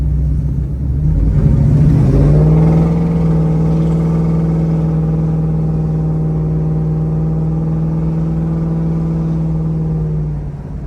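A 1974 Plymouth Barracuda driving straight down the road, its engine rising in pitch as it accelerates and then holding a loud, steady, close drone with a deep rumble.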